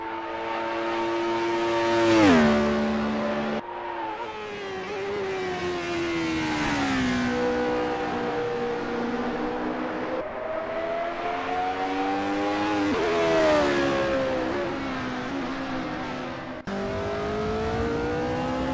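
1975-era Formula 1 race cars in Assetto Corsa howl around Watkins Glen. Engines rise and fall through gear changes as several cars pass in succession, fairly loud with no talking.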